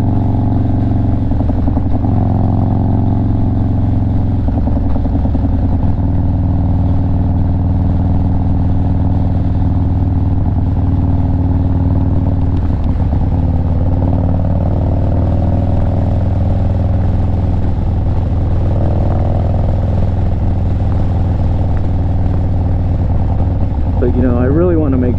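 A 2020 Harley-Davidson Low Rider S fitted with an S&S 475C cam rumbles along on a ride, its low, steady engine drone constant throughout while a voice talks over it.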